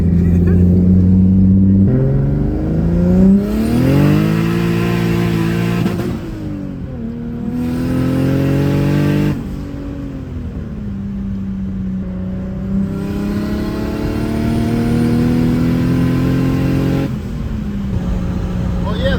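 An E30 car with a forged turbo M50 engine revs up and down repeatedly with the windows open, rising and falling in pitch, loud and close with rushing wind noise throughout.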